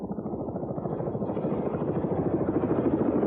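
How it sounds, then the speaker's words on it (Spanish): Press helicopter flying overhead, a steady loud rotor chop with a dense low throb that grows slightly louder throughout, continuous with no talk. "La prensa tiene incluso su propio helicóptero."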